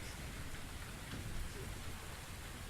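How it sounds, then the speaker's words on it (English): Steady rain pours in a grim outdoor scene from the mystery game The Invisible Hours, a dense, even wash of droplets with no voices over it. "Could I persuade you to come out of the rain, Flora?"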